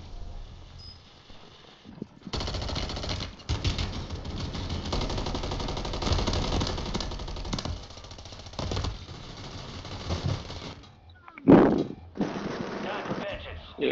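Gunfire from a Warzone 3 match in Rebirth Island Lockdown mode: dense, sustained bursts of shots with mechanical clatter run for most of the clip, break briefly, then return with a sharp loud burst near the end.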